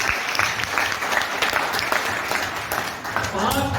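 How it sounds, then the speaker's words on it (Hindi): An indoor audience at a speaker's event applauds in a dense, steady burst of clapping that carries loudly through the whole stretch. "एक बार जोरदार तालियां बजा दीजिए इसके लिए।"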